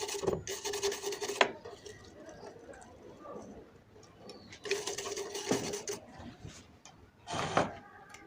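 A brush scrubs components loose from a circuit board during an Intex home theater repair, in three rough, raspy bursts close up, with quieter scraping between them and no talking.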